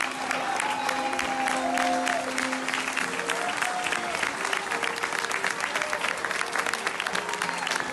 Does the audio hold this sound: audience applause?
yes